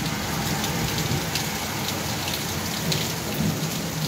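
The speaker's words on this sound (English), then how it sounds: "Some hard rain we got out." Hard rain pours down outdoors during stormy weather, a dense, steady hiss of heavy drops drumming on surfaces, loud and unbroken with no voices.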